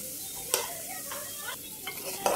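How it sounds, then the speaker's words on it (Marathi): Semolina roasting in hot ghee in a wok, stirred with a spoon: soft continuous sizzle with several scraping strokes and small knocks against the pan, fairly quiet and close, no voices. "आता हा रवा जो आहे तो भाजला जात आहे।"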